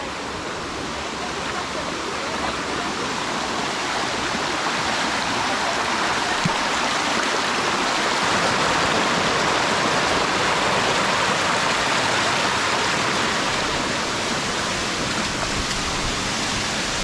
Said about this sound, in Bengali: মূল ঝর্ণায় যাওয়ার পূর্বে এরকম ছোট বড় কয়েকটি অনিন্দ সুন্দর ক্যাসকেটের দেখা পেয়ে যাবেন